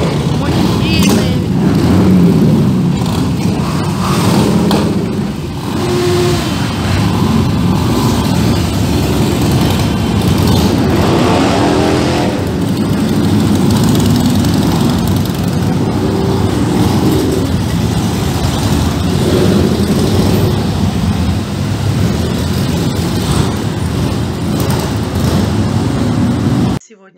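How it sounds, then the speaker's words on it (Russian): Many motorcycles at an evening gathering, their engines rumbling and idling in a dense, continuous low drone with occasional revs, heard close and loud with a person talking over it. "Вечернее сборище мотоциклистов. Сколько виден глаз, столько мотоциклов."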